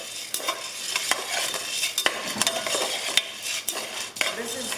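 Coffee being pounded in a mortar handed down from a grandmother, during Jamaican home cooking: a run of sharp, irregular knocks and scraping grinds, close and fairly loud, with no talking.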